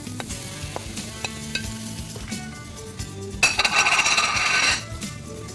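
Vegetables with tomato paste, chillies and boiled peas sizzle steadily in a pan for a vegetable curry, with scraping spoon stirs and clinks, rising to a louder burst of frying midway before settling.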